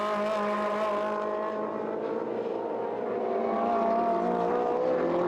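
A grid of Ferrari race cars runs at the Brno circuit during a 2013 Trofeo Pirelli round. Loud, continuous engine roar with a slowly shifting pitch and no break.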